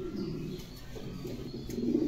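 A male Mundi pigeon in Bera, Pabna, makes a low, continuous cooing hum, close and moderately quiet, swelling slightly at the end with no talking.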